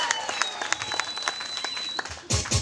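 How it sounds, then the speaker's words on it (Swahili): Audience applause at a Riccatti Business College graduation ceremony in Wote, a steady crowd of many hands clapping with a fuller, louder burst of clapping near the end. "Mpigeni makofi mazuri."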